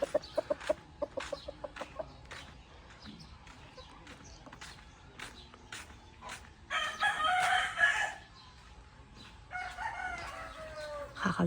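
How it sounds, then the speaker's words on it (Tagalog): Chickens cluck in short repeated bursts early on, then a rooster crows loudly twice at a farm, with a voice briefly speaking. "good morning sa mga manok ni Uncle Oyet"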